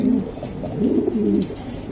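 Racing pigeons coo softly nearby, low throaty calls that roll and repeat in a short burst.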